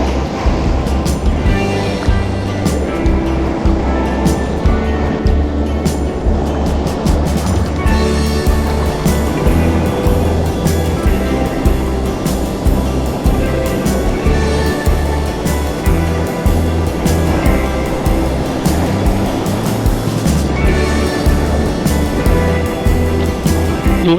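Heavy sea surge breaking and draining around rocks while rock dodging by boat between Norwick and Balta Sound, Unst, Shetland, loud and continuous, with a steady engine drone running beneath the churning water throughout.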